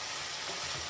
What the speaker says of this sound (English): I'm going to just add them in and give them a light stir